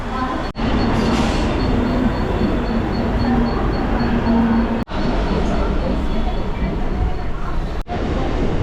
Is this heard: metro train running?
yes